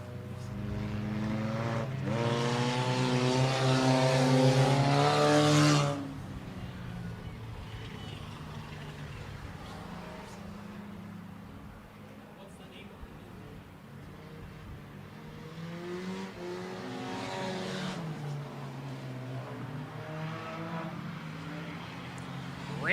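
Enduro race cars at Kalamazoo Speedway roar past, one engine screaming loudly up through its revs and fading, then another building from a distance and passing, with an announcer talking over the action.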